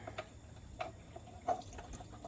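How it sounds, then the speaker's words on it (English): Coolant dripping from a Toyota Sequoia's engine into a bucket below during a thermostat replacement, heard as a few faint, separate drops spaced about half a second apart over quiet background hiss. "You can hear some of the coolant still dropping in the bucket down below."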